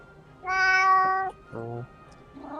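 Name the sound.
cat meowing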